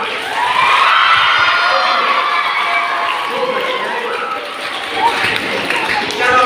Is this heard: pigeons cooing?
no